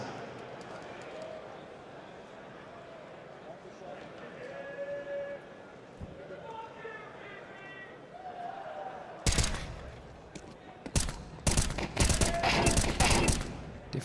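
Rifle gunfire in a Counter-Strike match breaks out at IEM Dallas 2025, with dense, loud bursts of shots in the second half after a quieter stretch of ambient game sound and faint tones.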